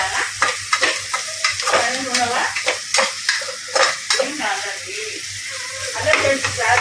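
Onions frying and sizzling in a pan as they are stirred, a steady hiss with repeated scraping strokes of a spoon, close and fairly loud, in a village kitchen.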